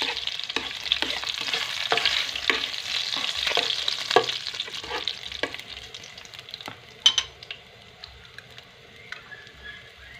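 Sardines and pechay fry in a pan with a steady sizzle and repeated scraping stirs, loud and close, the sizzle easing toward the end amid a few clatters.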